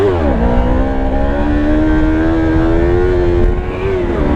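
A Yamaha R3 motorcycle engine pulls hard in second gear during a wheelie, a loud, close rising whine with a brief dip near the end.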